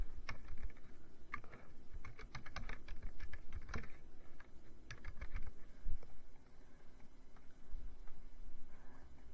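Bursts of keyboard typing on a computer keyboard, quick uneven clicks in short runs with pauses, close and moderately quiet over faint room noise.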